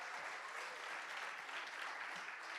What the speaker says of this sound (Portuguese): Aplaude o Senhor por essa palavra.